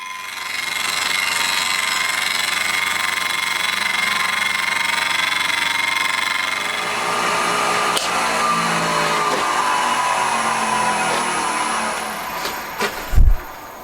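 Steady loud mechanical machining drone from a machine taking slow, shallow cuts in metal for a handmade intake manifold on a Honda Monkey-based four-cylinder engine build, continuous throughout with a couple of clunks near the end.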